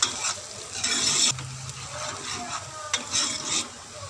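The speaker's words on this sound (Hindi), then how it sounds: "कुकर में मैंने 3 टेबलस्पून ऑयल, प्याज और लहसुन शामिल कर दिए हैं। अब हम इनको फ्राई करेंगे।" Onion and garlic frying in three tablespoons of oil in a pressure cooker, a steady close sizzle with intermittent stirring scrapes and light metal clinks.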